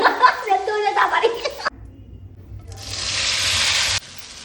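Onions frying with salt in a pan, a steady hiss of sizzling that rises near the end and cuts off abruptly, following a stretch of talking and laughter at the start.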